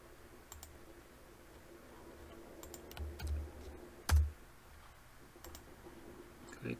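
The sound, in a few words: clicking the query button on a computer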